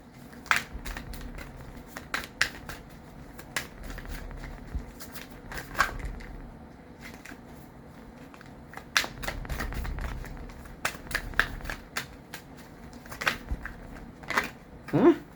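Tarot cards shuffled by hand in short, uneven bursts of riffling and slapping, separated by quiet gaps, close and fairly soft.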